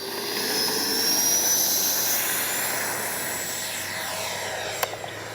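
A Freewing F9F-8 Cougar RC model jet's ducted-fan engine spooling up as the throttle is eased forward, a steady rising whine and rushing roar, loud and close outdoors with a small click near the end.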